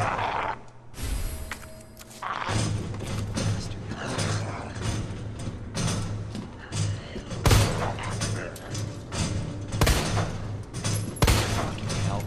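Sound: gunfire from Resident Evil 2 (video game)

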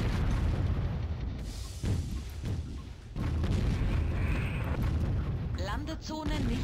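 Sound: artillery and gunfire in the video game Warzone 2100

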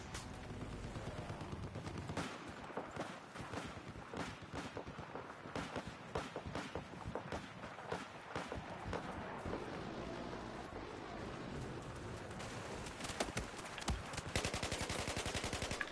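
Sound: gunfire from a gun in the video game Battlefield 4

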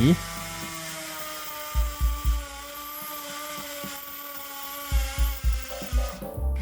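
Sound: OSUKA cordless hammer drill drilling into cement

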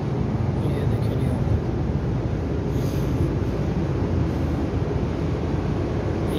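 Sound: Japanese train running, heard from inside

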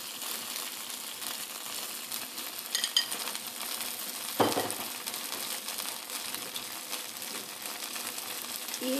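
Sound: garlic, chili and onion sautéing in a pan

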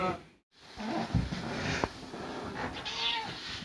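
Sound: cat meowing

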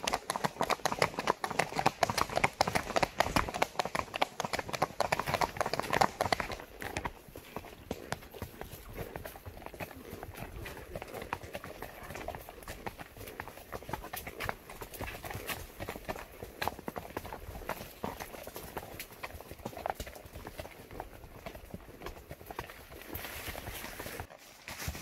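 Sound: horse loping, hooves clip-clopping

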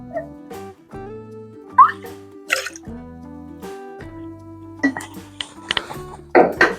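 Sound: pouring tangerine liqueur into a cocktail

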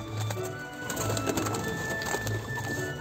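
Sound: laughing doves cooing in cage

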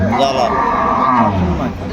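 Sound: cattle mooing at a livestock market

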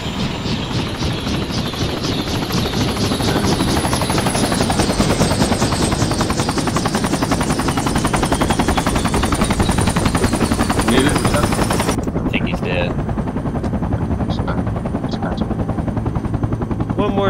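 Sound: helicopter in a video game, Project Reality

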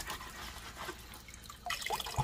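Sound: washing red potato skins with running water

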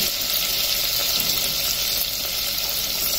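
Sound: garlic and ginger frying, stirred in a cooker pan

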